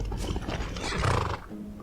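A horse neighs in Skyrim, a whinnying call with some hoof clatter and harsh layered texture, loud and close for under two seconds with no talk.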